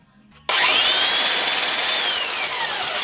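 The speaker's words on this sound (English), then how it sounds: "So the last thing I want to do is to remove the glaze. I'm going to use that belt sander." A belt sander grinding the glaze off brake pads during brake maintenance on an Infiniti Q50 starts abruptly and runs as a loud, steady high whine with a slowly shifting pitch, close and alone.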